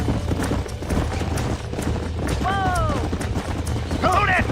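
Horses gallop in the video game Red Dead Redemption, with a dense, continuous patter of hoofbeats over a rumbling background and two brief neighs breaking through.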